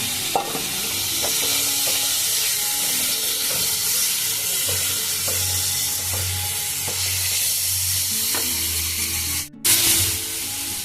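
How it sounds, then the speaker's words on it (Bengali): Prawns fry in oil for a Bengali doi chingri dish, a continuous close sizzle with rhythmic stirring scrapes throughout and a brief clatter near the end, no voices. "এবার এখানে দিয়ে দেবো আমি চিংড়িগুলো"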